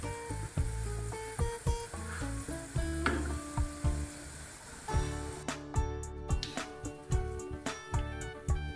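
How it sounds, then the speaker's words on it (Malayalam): Mustard seeds crackle and pop in hot sesame oil in a pan, a steady close sizzle broken by frequent sharp pops and crackles, with no voices. "കടുക് പൊട്ടി തുടങ്ങുന്ന സമയത്ത്"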